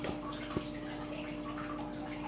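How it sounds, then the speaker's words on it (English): Marine DC water pump running at low volume, a steady hum with soft watery trickling and gurgling, faint and continuous with no talk. "This is the water pump."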